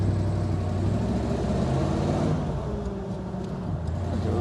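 A 1946 Mercury 8 Convertible's engine hums steadily and close while driving, a continuous low drone that holds even throughout with no speech over it.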